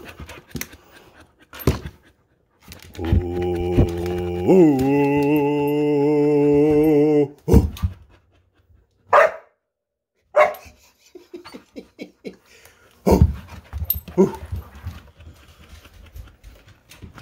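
Playful puppies, one giving a long drawn-out howling whine with several separate barks and yips around it, then quieter panting and scuffling, close and loud at times with gaps of silence.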